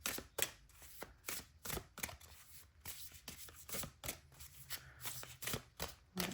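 Tarot cards being shuffled close up, a steady run of papery riffles and slaps in irregular rhythm, continuous and fairly soft.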